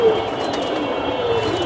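Flying pigeons of fancy breeds such as silver and army types coo softly, with two brief low coos, one near the start and one near the end, over a steady background hum.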